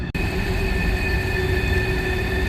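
A loud, steady rumble of a manifest freight train rolling past close by in Ohiopyle, Pennsylvania, with constant wheel and rail noise and high metallic tones throughout.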